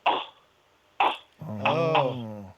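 A person imitates an animal's cough with two short harsh bursts, then a drawn-out voiced rasping sound.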